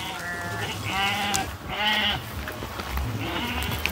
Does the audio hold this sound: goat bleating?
yes